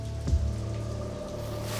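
Rain falls steadily as a sound effect behind a Tagalog horror story set at UP Diliman, a constant soft wash with a low steady hum beneath and one brief low knock near the start.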